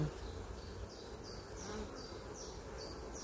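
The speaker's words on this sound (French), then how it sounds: "les seules abeilles qui me tournent autour, c'est celle de la ruche énervée" Honey bees buzz around an agitated hive outdoors in a steady, close drone, with individual bees whining past in repeated swells.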